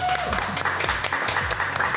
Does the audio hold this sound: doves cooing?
no